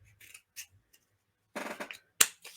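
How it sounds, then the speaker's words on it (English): Scissors trim paper for a journal cover, giving a few quiet, separate snips and rustles with short pauses between them, and one sharper cut near the end. "let me trim this up here"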